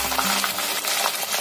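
A single dried red chili fries in hot oil, giving a steady, close, dense sizzle with light stirring scrapes and no voices.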